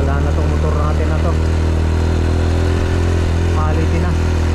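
Motorcycle engine running steadily and fairly close on a rough mountain road, the bike labouring in first gear, with a low droning hum and faint talk over it.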